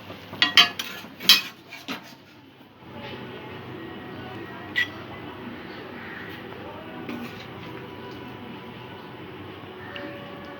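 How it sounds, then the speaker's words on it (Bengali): Kankrol and prawn curry poured from a pan into a serving dish brings a few close clinks and scrapes of metal in the first seconds, followed by a long stretch of quiet, steady background hum. "এবার এটা আমি পাত্রে ঢেলে নেব।"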